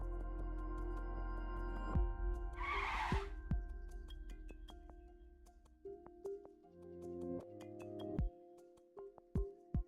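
Tyres skid briefly in a car chase in the game Love and Deepspace, a sharp hissing burst early on that stands out over game music and engine tones.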